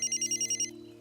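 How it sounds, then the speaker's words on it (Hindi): A telephone rings indoors in a film scene, with a quick series of about six bright electronic trills in an even rhythm that stops abruptly, leaving a low steady tonal hum underneath. "पापा फोन बज रहा है, उठाओ ना।"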